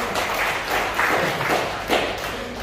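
A church congregation claps together during an evening prayer service in Jombang, a steady, dense patter of many hands filling the room, with a few louder swells of clapping.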